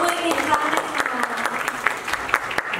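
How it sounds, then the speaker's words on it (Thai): Applause fills the hall at the Siamrath Awards 2024 ceremony, a brief, lively round of many hands clapping close by with a few crisp individual claps standing out. "ขอเสียงปรบมืออีกหนึ่งครั้งนะคะ"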